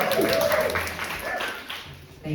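An audience at a Montréal stand-up comedy night breaks into brief applause, scattered clapping that fades within a couple of seconds, with a voice speaking over it.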